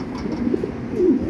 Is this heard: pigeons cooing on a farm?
yes